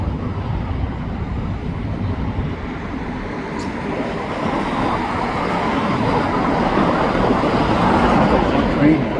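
A long CN freight of auto rack cars rolls past eastbound at a road crossing beside a highway in Dorval, a steady, loud broadband rumble that swells slightly toward the end with no clear horn.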